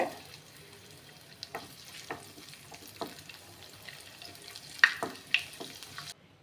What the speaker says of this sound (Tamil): கேஷ்யூனட் லைட்டாக ஃப்ரை ஆனோடனே கிஸ்மிஸ் ஆட் பண்ணிக்கோங்க